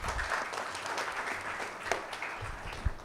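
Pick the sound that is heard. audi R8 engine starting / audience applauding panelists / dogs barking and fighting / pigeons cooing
audience applauding panelists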